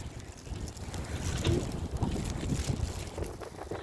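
Strong cold wind buffets the microphone outdoors near water on a freezing day, a continuous rough, gusty roar with low rumbling surges and no speech.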